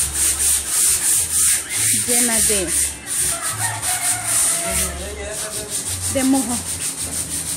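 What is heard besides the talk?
sanding wooden railings by hand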